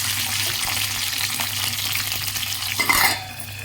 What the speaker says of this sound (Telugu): జస్ట్ ఒక టమాటా, పచ్చిమిరపకాయలు అది ఏవైతే ఉన్నాయో అవి జస్ట్ దోరగా వేపేసుకోవడమే